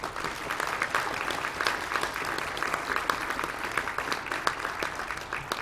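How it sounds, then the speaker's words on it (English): Applause from the attending public at a regular council meeting in Nanaimo, honouring retired councillors; steady, fairly quiet clapping from a medium-sized crowd, continuous for several seconds with no voices on top. "I think they deserve a round of applause."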